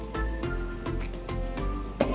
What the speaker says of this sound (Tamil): இது கூட ஃப்ளேவருக்காக இஞ்சி பூண்டு விழுது போடுறேன்.